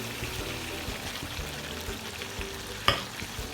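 Yogurt and green chilies go into a sizzling pan of Peshawari chicken karahi, giving a constant close frying hiss with stirring scrapes and one sharp clink near the end.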